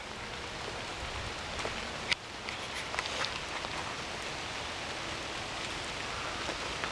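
Light rain falls over an outdoor pond, a soft, even hiss of drops with a few sharper taps and ticks standing out, fairly quiet and with no one talking.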